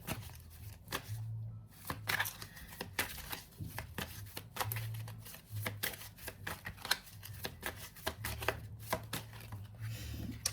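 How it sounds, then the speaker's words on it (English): A deck of tarot cards is shuffled and laid down in a quiet room, with soft, quick riffles, taps and flicks that come in uneven bursts for about ten seconds, close and faint. "Dropping all my cards today."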